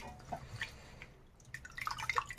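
Bitter water dripping from squeezed food into a plate, a scatter of small, bright drips that quicken toward the end, quiet and close with no voices.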